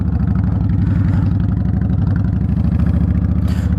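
A Kawasaki Ninja 650 V-twin motorcycle engine runs close by, a steady pulsing idle throb with a deep, even beat throughout.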